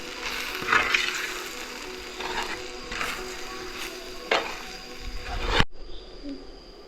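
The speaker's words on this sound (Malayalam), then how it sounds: "ഇനി ഇത് നന്നായിട്ടൊന്ന് പച്ച മണം മാറുന്ന വരെ നന്നായിട്ടൊന്ന് ഇളക്കി കൊടുക്കാം" Spice masala for Kerala-style chicken curry stirred in a hot pan, continuous sizzling with repeated scraping spoon strokes, ending abruptly in near silence.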